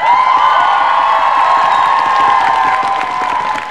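A concert audience applauds and cheers for the band, a dense, loud wash of clapping and shouting crowd noise that carries on steadily with a sustained tone running underneath.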